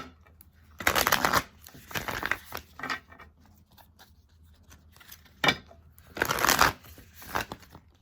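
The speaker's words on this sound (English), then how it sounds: "I get 2 cards out as I'm shuffling." A tarot deck is shuffled by hand at close range in bursts of crisp riffling card flutter separated by short quiet gaps, with no speech over it.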